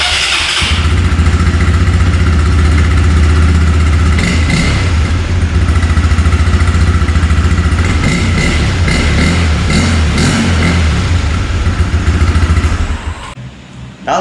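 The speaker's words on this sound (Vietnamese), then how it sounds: "Đó là tiếng bô bình thường." A motorcycle engine idles with a normal stock exhaust, close and loud, as a steady low rumble that runs unbroken for about thirteen seconds before it cuts off.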